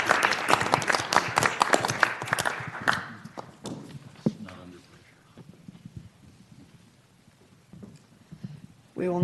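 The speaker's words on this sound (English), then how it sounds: "let's welcome our 2019 City Council candidates with a round of applause" Applause from an audience at a city council candidate forum welcoming the 2019 candidates, dense clapping for about three seconds that fades into quieter room noise with scattered sounds and faint voices.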